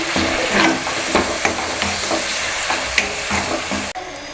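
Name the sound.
tomato sautéing with ginger garlic paste in pan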